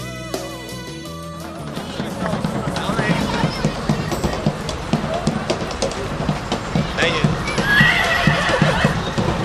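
A horse whinnies loudly amid rhythmic clip-clopping hooves on a street at night in Saint Petersburg, with background bustle and some faint talk mixed in.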